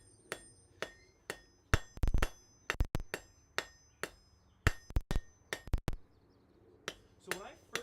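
Hot metal is struck at a blacksmith's forge in a smithy, with sharp ringing hammer blows in an uneven rhythm, some in quick doubles, close and loud over a low background hum.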